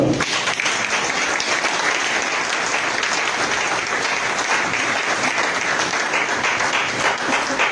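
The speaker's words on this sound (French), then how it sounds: "On va acclamer le Seigneur" A church congregation breaks into loud, sustained applause to acclaim the Lord, dense clapping that holds steady from start to finish with a faint voice underneath.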